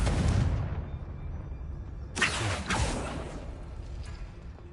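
Confringo fire spell blasts from Hogwarts Legacy come as two sharp whooshing bursts close together, loud and near after a fading rumble, then trail into quiet.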